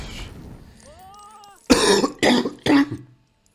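Three sharp, loud coughs in quick succession, close to the microphone, following a quieter stretch with faint voice-like tones.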